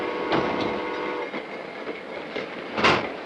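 Passenger train in a 1952 film scene, rolling steadily with a continuous rumble and faint rhythmic clatter of the cars, a brighter burst near the end, no talking.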